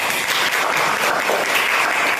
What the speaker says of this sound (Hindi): तो आप लोगों के लिए भी जोरदार तालियां।